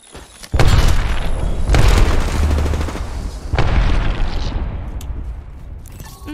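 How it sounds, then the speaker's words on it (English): Heavy explosions and gunfire during an Apex Legends match, with three loud booming blasts after a brief quiet start and dense rumbling bursts and shots filling the space between them. "Look out, grenade!"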